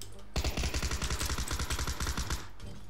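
Sustained automatic gunfire in PUBG, a rapid evenly spaced stream of loud close shots running for about two seconds before cutting off abruptly.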